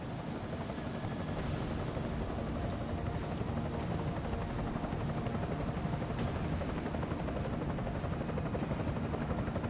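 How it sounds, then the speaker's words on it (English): An enemy helicopter in Deus Ex: Mankind Divided drones with a steady, loud rotor roar that fills the whole stretch without letup. "Enemy helo sighted."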